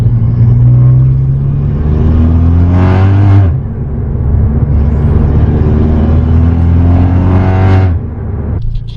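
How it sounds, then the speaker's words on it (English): A VW MK6 GLI with a cold air intake pulls hard through the gears, engine note climbing steadily then dropping at two shifts with a brief turbo let-off whoosh, loud and close from inside the car. "I wanted you guys to kind of hear when I shift, because you can hear the turbo let off now too"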